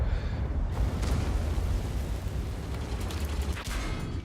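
A tank firing into an enemy turret in a tank battle game, heard through dense, rumbling low-end noise with some mechanical creaks. There is no single sharp cannon crack, just a continuous heavy roar of combat.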